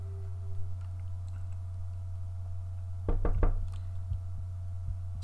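Several sharp knocks on a door land in a quick cluster around the middle, loud against a steady low electrical hum, with no voices.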